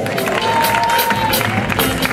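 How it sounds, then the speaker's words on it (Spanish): Loud crowd applause and cheering for a finalist at the Mister International Panama pageant, a dense continuous roar of clapping with shouts mixed in. "Un fuerte aplauso para"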